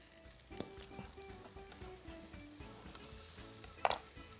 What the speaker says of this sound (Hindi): खूब अच्छी तरीके से भुनना चाहिए ताकि चना बहुत अच्छे वाला जायकेदार चना हमें मिल जाए